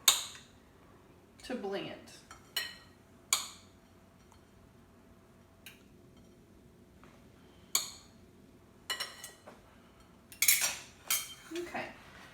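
A knife cuts cold butter into cubes for dumpling dough, giving sparse, sharp clicks and taps on a board or dish with long quiet gaps between them. A voice speaks briefly.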